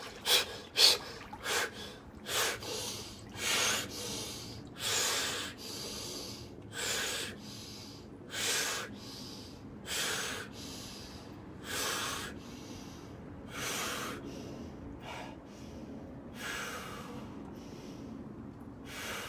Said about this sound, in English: you just focus on breathing out this warm air